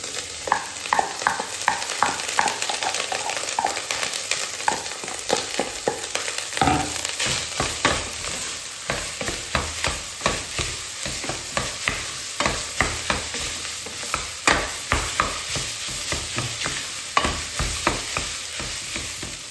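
Rice stir-fried in hot oil for egg fried rice, cooked in a pot rather than a wok: a steady loud sizzle broken by repeated scraping stirs and clatters, close up, with no talking.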